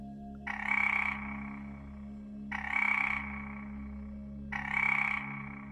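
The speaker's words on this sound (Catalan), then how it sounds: "Un tòtil és un tipus de gripau." A midwife toad croaks three times at an even, slow pace, each call a short rasping burst over a steady low electrical hum.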